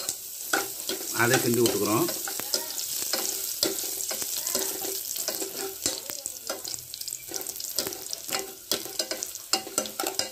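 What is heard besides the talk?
sautéing onions in a pan for murunga keerai soup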